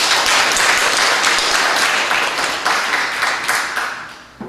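A congregation applauds during a Sunday church service, a full, dense round of clapping that holds steady and then tapers off near the end.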